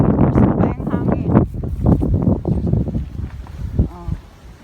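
Strong outdoor wind near Castle Peak buffets the microphone in heavy, gusting rumbles, with voices talking underneath the roar.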